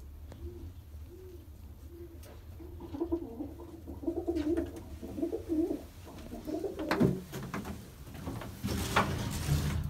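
Close, low cooing from Mardin and Miro pigeons, some with front crests, in a loft: repeated rolling coos that build in the middle, with a few knocks and rustles around them.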